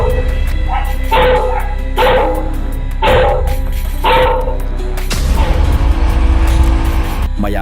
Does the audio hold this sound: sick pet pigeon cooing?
no